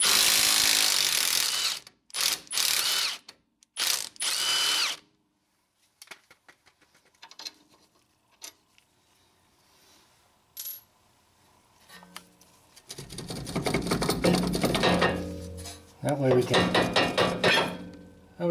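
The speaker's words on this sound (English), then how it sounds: "I'm also going to loosen up this 14mm bolt right there." Ratchet clicks and metallic knocks from loosening a 14mm bolt on the lower control arm of a Honda V6 Accord during CV axle replacement, in short close bursts separated by quiet pauses, with a longer stretch of busy clattering near the end.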